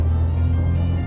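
A Noble sports car on the move gives a steady, low engine drone with a constant road rumble, close and continuous, with no voices.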